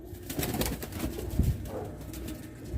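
Pigeons, a flock of racing birds with hens and males, coo in low, rolling murmurs close by, overlapping and continuous, with faint background shuffling.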